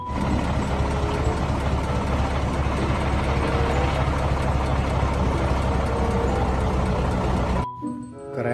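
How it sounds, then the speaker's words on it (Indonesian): A cement mixer truck engine rumbles steadily at close range, a continuous dense drone that cuts off near the end, with no talking. "Wow, lihat, ada mobil truk molen."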